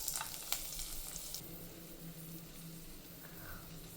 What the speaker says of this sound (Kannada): ಆನಿಯನ್ಸ್ ಹಾಕ್ಕೊತಾ ಇದ್ದೀನಿ.